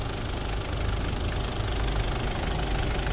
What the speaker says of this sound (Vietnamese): đây là tiếng động cơ đang hoạt động đây